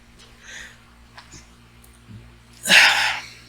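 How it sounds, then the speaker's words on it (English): A single loud sneeze bursts out near the end, preceded by quiet room noise and faint breaths. "Excuse me, I had to sneeze."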